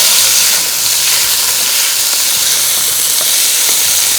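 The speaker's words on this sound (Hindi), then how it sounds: "इसमें क्यूब में कटा हुआ चिकन, इसको तेज़ आंच पे थोड़ा सा करना है फ्राई" Cubed chicken fries over high heat in a wok, giving a loud, dense, continuous sizzle and hiss that holds steady and close throughout, with no voices.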